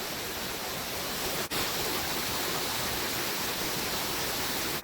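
A small waterfall tumbles beside a little bridge on a mountain trek in Kumaon, its steady broadband rush filling the air continuously without pause, close and even in level.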